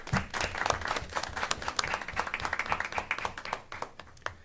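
An audience at a county board of education meeting gives a round of applause, steady dense clapping from a moderate-sized crowd lasting several seconds and thinning toward the end.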